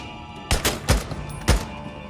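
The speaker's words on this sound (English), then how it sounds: "whoever's shooting! Stop!" Several sharp gunshots crack out in quick succession in the video game Days Gone, loud and close, with short pauses between the shots.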